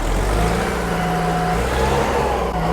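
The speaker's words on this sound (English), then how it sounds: "listen to 122 horsepower with this 4-cylinder NEF" A refurbished New Holland 8030 4WD tractor's 122-horsepower 4-cylinder NEF diesel engine runs loud and close, its steady low rumble holding a constant pitch throughout with no talking.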